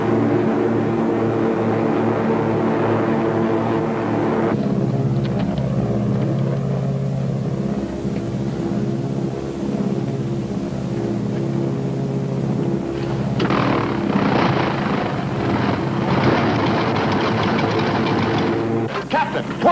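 Droning piston engines of a WWII bomber in flight over Austria, a steady low hum with the port engine failing; the tone shifts and thins partway through, carrying on loud and continuous.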